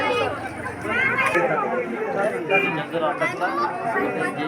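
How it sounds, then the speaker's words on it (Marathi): Dense crowd chatter and babble at Shivalaya lake near the Saptashrungi temple, a steady wash of many overlapping voices filling the scene, close and continuous throughout. "भरपूर गर्दी आहे इथे."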